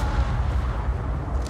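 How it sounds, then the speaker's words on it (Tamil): Explosions going off in the ARK Phoenix mod, a game with void dinosaurs: a steady rumbling barrage of low booms that continues without a break across the whole stretch, fairly loud, with no voices heard. "ஐயோ எவனோ அவங்க வெடி போடுறாங்க."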